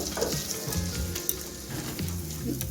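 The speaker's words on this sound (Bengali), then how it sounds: "এখন আমি বেগুন সব কিছু দিয়ে মাখা বেগুনটা দিয়ে দিচ্ছি" Spiced eggplant sizzles and crackles in hot melted ghee in a pan for begun bharta, a busy, continuous frying hiss with occasional stirring scrapes, close and fairly loud.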